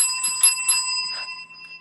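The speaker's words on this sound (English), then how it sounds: "Let's ring that bell for Karen." A small hand bell rings several quick bright dings close by, its metallic tones ringing on and fading out within two seconds.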